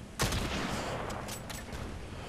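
A sharp gunshot bursts out, followed by a few fainter shots and crackles over a steady background hum, gunfire in the video game Battlefield Play4Free multiplayer.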